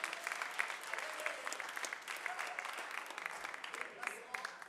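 Audience applause for a poet at a French poetry slam, a steady dense clapping that holds evenly throughout at moderate distance, with a few voices mixed in.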